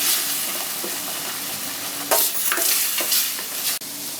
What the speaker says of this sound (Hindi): ऑयल गर्म हो जाए तो इसमें डालेंगे हींग, जीरा और जो हम लोगों ने पेस्ट बना के रखा था उसको डाल देंगे.